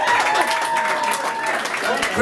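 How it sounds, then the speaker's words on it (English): Wedding guests applaud as the groom, Lewis, comes round from the top table: steady, dense clapping from a room full of people, with voices and cheers mixed in throughout. "Give a round of applause as Lewis comes round."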